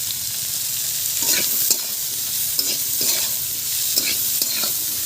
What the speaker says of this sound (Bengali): আর 5 মিনিট ভেজে নেব।